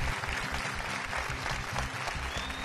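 A crowd at a judo competition applauds steadily throughout, sustained dense clapping with a low rhythmic background layer running beneath it, no clear voices standing out.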